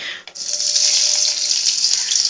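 Chopped onions go into hot oil in a cooking pot: a brief rustle, then a loud, steady, hissing sizzle that carries on without pause and with no voices.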